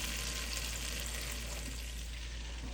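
Butter melting over medium-high heat in a cast iron pan for a gumbo roux, giving a soft, steady sizzle with a constant low hum underneath and no talking.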